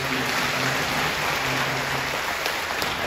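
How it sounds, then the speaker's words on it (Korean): A church congregation applauds to welcome new members during a Sunday service, a dense, steady hiss of many hands clapping together, loud and sustained without pause. "오늘 뜨겁게 박수로 환영해 주시면 감사하겠습니다"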